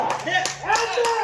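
A crowd claps at a village Nag Panchami strength display in Badami, several sharp claps ringing out over a steady hum, with people talking throughout.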